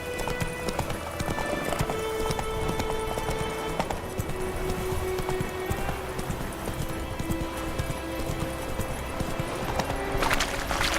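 The horse Roach gallops in The Witcher 3, its hoofbeats a dense, continuous clip-clop close by across the whole stretch, with a faint rustling bed of game ambience and no talk.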